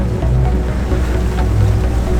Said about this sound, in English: motors now getting fully in and out of the water